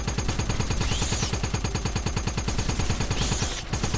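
Rapid, continuous automatic fire from a weapon in Wolfenstein, loud and close, a steady burst of evenly spaced shots lasting several seconds before cutting off, with no talking.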